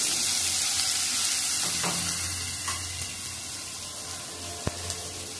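Asafoetida and finely chopped onion fry in hot oil in a home kitchen pan, a steady soft sizzle with faint hiss, broken by a few light clinks and a sharp tap near the end.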